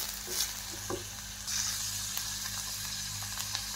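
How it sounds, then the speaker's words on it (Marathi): Onion and capsicum sautéing in a pan for paneer rolls, a steady close sizzle with occasional stirring scrapes and spatula taps throughout. "कांदा आणि शिमला मिरची पाय परतत आहे"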